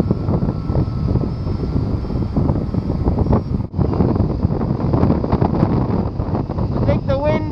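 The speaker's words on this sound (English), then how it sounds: "I think the wind is going around it." Strong wind buffets the microphone on the slopes of an ancient Australian volcano, a loud, steady roar with gusty swells lasting throughout, briefly dipping near the middle.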